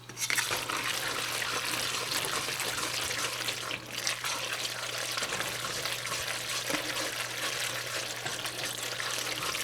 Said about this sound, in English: I'm going to go ahead and give that some stirs, get the cheese mixed in with the noodles